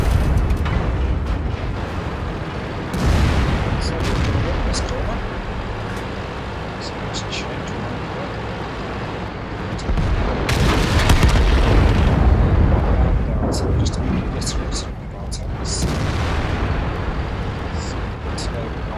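Booming cannon shots from an IS-7 heavy tank in World of Tanks come through amid game explosions and engine rumble, with a few loud bursts across a long stretch and a voice speaking over the action.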